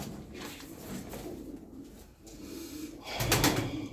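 Turkish tumbler pigeons coo softly in a loft, low rolling calls repeating through the moment, with a brief louder rustle or flutter near the end.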